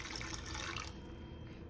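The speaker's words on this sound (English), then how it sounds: "I'm just going to gently pour cold water into the can where the ice cubes are" Cold water gently poured from a large beaker into a can holding ice cubes, a short steady trickling splash that thins out halfway through.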